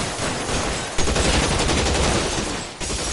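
Gunfire in a shootout in the video game L.A. Noire, dense rapid bursts of automatic fire that blend into a loud, continuous crackling barrage.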